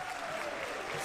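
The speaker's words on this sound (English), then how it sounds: "Got a hot crowd there." Wrestling arena crowd applauding and cheering, a dense, continuous wash of clapping over a brief moment, moderately distant.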